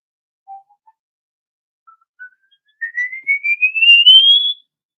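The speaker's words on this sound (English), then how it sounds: "He's still whistling." A single person whistles a few short notes, then a long clear tone sliding steadily upward in pitch, with slight wavering, close and alone.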